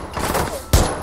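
Gunfire in the video game Rainbow Six Siege, a burst of shots with a sharp loud crack near the end, mixed with game ambience.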